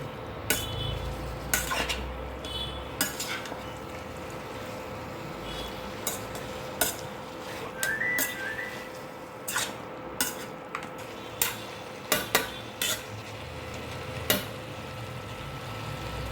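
Chicken pepper masala is stirred in a kadai over low heat, with a quiet background sizzle broken by irregular sharp clinks and scrapes of a metal spoon against the pan.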